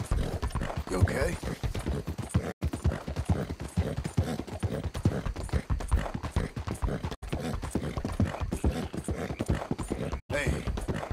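Horse hooves clip-clopping at a steady walking rhythm in Red Dead Redemption 2, close and continuous throughout, with someone talking over the hoofbeats.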